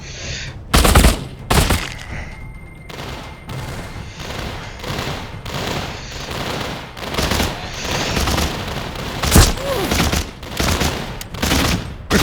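Rapid gunfire in the VR game The Walking Dead Saints & Sinners: loud, close bursts of shots, some in quick volleys and some as single cracks, over a busy background rumble.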